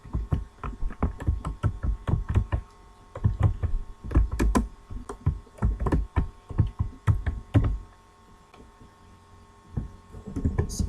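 Fingers type on a computer keyboard while writing HTML markup, producing irregular clusters of close, crisp key clicks with brief pauses between words, over a faint steady hum.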